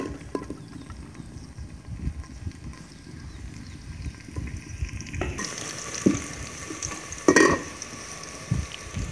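Onions go into a hot cooking pot on a stove and sizzle. A steady low frying hiss is broken by a few stirring clatters, and the sound gets brighter and louder partway through.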